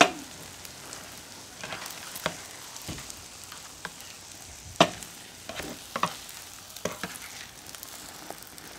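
An egg frying in a pan for a keto chaffle McGriddle breakfast gives a soft sizzle broken by sharp pops, spatters and scraping stirs, scattered irregularly throughout at close range without talk.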